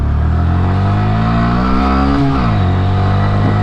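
A Honda Grom motorcycle accelerates on a road, its engine revving loud and close through the gears, pitch climbing steadily with a brief dip at a gear shift before rising again.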